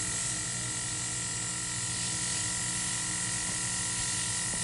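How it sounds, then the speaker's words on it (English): An airbrush spraying water from its gravity-feed cup to flush it clean, a loud, steady, continuous hiss of air and spray held close, with no talking. "I want to spray until it runs clear for me."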